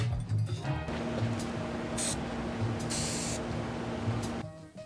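An Ironlak 400 ml spray paint can hisses in a long continuous burst fitted with a test cap, with short sharp bursts of spray layered on top; the hiss keeps going after the nozzle is released.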